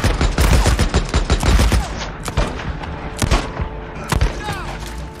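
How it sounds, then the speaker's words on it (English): Gunfire in the video game Days Gone: dense bursts of rapid shots crack out one after another, loud and close, tapering into scattered single reports with a faint voice in the background. "I hear gunshots."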